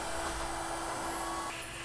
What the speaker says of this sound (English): To keep dust and chippings down, we're using a vacuum cleaner.